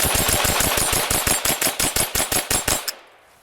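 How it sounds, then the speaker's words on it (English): A Ruger 10/22 .22LR rifle firing rapidly, a close, loud, even string of around twenty sharp shots that stops abruptly and leaves a short fading tail. "that's 25 rounds, pretty quick firing"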